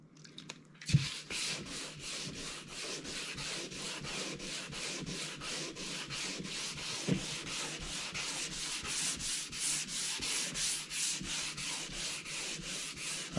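Hand sanding a fiberglass hardtop from a 1961 Corvette with sandpaper, producing a steady run of close, rhythmic back-and-forth scraping strokes at an even pace, with no talking.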